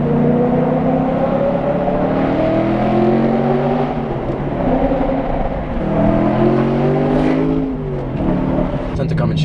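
A BMW 1M fitted with a swapped S65 V8 engine revs hard and close, its pitch climbing and falling in repeated sweeps, with a voice talking over it.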